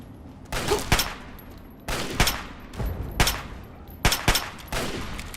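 Gunfire in Fallout, five short bursts of loud gunshots striking a target, spaced about a second apart and close up, with no talking.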